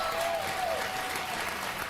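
Studio audience applause on the Maury Show, a steady wash of clapping from a crowd that runs for about two seconds at moderate distance and fairly low level.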